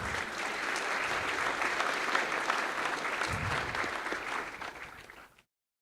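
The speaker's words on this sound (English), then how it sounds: "Please give her a warm round of applause." Audience applause for a plaque recipient at a seminar, a steady dense clapping from a sizeable crowd that holds evenly for about five seconds, then stops abruptly.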